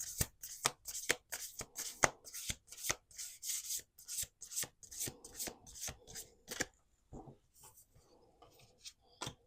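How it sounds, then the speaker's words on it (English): A deck of tarot cards riffled and shuffled by hand in a quick series of crisp, close snaps and flutters, each burst separated by short pauses. "Let's do one more shuffle."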